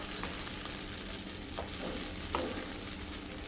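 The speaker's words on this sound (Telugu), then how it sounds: "సో ఇప్పుడు దీన్ని బాగా ఫ్రై చేసుకున్నాం అన్నమాట." Fresh mint leaves fry in a pan, giving a dense, even sizzle close up, broken by a few soft scrapes as they are stirred.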